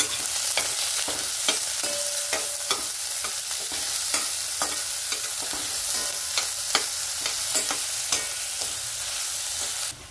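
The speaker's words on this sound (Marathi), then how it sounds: "आता आपण कांदा ना असा परतून घेतलेला आहे" Onions sauté in hot oil with a little salt in a pan, sizzling steadily up close while a spatula stirs and scrapes in frequent quick clicks.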